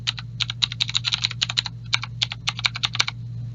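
A password is typed on a computer keyboard, a quick irregular series of crisp nearby key clicks over a steady low electrical hum, with no voices.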